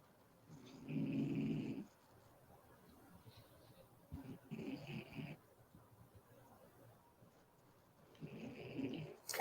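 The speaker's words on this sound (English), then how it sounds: "Your dog is dreaming about milk bone dog biscuits or something." A dog asleep and dreaming makes soft growling, snoring-like noises in three separate bursts, quiet and close, with low room noise between them.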